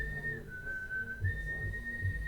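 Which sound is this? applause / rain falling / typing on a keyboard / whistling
whistling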